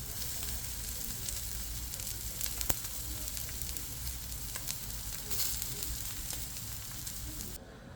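A New York strip steak sizzles loudly and steadily on a Blackstone griddle, a constant crackling hiss with a faint tap partway through that continues with little change.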